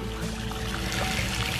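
Brown, iron-rich well water is pumped into a swimming pool, making a continuous, fairly loud rushing and splashing pour with no pauses.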